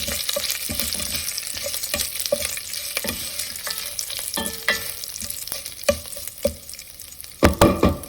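Curry leaves fry in a pan for black chickpea curry, giving a steady close sizzle with repeated sharp scrapes and stirring clatters, louder spatula knocks near the end, and no talking.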